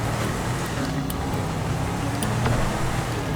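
Steady car engine hum from a vehicle being driven in the video game GTA 5, a continuous low rumble with road noise and no break across the stretch.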